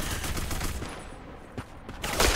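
Automatic weapon fire in the online shooter Black Squad, using a gun with almost no recoil, comes as a dense, continuous spray of rapid shots that carries loud and steady through the whole stretch.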